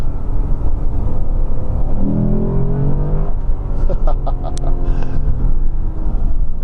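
A Lexus RC-F engine rumbles close by and rises in a strong rev midway, then settles back to a throbbing idle, loud and steady with no voices.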